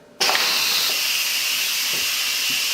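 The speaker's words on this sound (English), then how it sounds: "What I'm going to do is I'm going to release the steam" Steam blasts from the pressure-release vent of an Instant Pot cooking beef stew. The loud, steady hiss starts abruptly and continues unbroken at close range.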